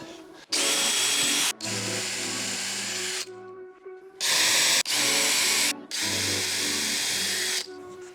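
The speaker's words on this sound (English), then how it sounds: "I gotta drill the holes" A power drill bores holes during a garage build, running in several loud bursts of steady whine separated by short pauses, with no talk over it.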